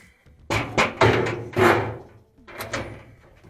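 Door of a Frigidaire dryer being opened and handled during repair, a few close, loud thunks and knocks spread across a few seconds.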